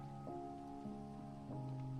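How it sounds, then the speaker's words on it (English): Steady rain patters across a surface in a video game, beneath a sustained musical drone, with a few soft tonal accents along the way. "It's going to be raining."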